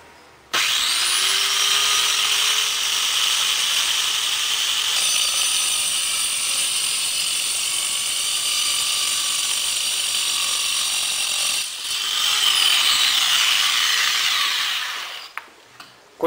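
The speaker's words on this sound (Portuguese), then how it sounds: "Cortando o aço tubular, para isso também recomendamos o uso de óleo de corte" A DWT MC500 multi-cut saw slices through tubular steel with cutting oil, giving a loud, steady high-pitched grinding whine that runs almost unbroken, dips briefly near the end, then stops.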